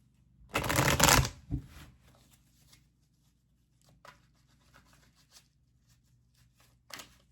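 Tarot cards riffle-shuffled in one loud burst near the start, followed by quieter card slides, taps and handling sounds spread across the rest.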